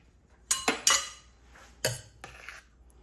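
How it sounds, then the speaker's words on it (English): A metal spoon clinks and scrapes against a dish while pie filling is scooped into pie crusts, several short sharp taps in quick bursts with quiet pauses between them and no talking. "now I'm going to put the pie filling in the pie crust"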